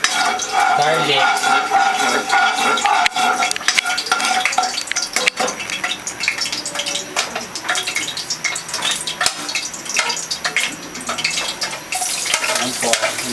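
Garlic stirred and frying in a pan while cooking Bicol Express, with a steady sizzle, scraping of a utensil against the pan, and occasional clatter of cookware throughout.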